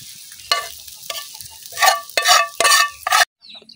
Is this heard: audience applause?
no